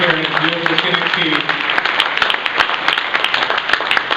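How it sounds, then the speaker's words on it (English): An audience at a Tennessee industry and advocacy summit claps loudly for the panel, a dense, sustained patter of hands. A voice talks briefly over the start of it. "Round of applause, please."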